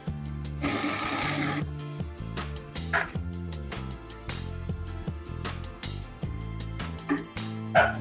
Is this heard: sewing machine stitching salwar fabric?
yes